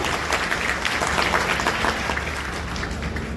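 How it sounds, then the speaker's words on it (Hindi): An audience at an insurance agents' gathering in India claps together, a dense steady patter of many hands at moderate loudness, continuing evenly throughout with no speech on top. "जोरदार तालियां दो"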